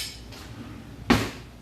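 A metal spoon knocks once against a pan while spaghetti sauce is spread for a mac and cheese pizza, a sharp close clink that rings briefly amid quiet kitchen background.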